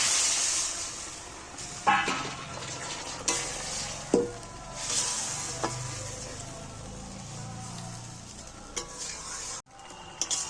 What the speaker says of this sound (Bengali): আমি এবার মশলা ধোয়া জলটা সাইড দিয়ে দিয়ে দিচ্ছি